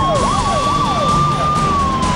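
An ambulance carrying a transplant heart through city traffic in Chennai, its siren wailing loud and close in rising and falling sweeps, with a steady electronic tone alongside and road rumble beneath.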